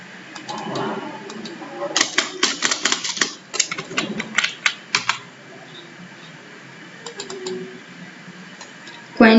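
Quick bursts of keystrokes on a computer keyboard while entering an item name in Tally Prime, crisp and close, with a pause and a few more taps later; a person talks faintly underneath.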